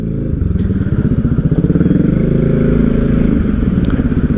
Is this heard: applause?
no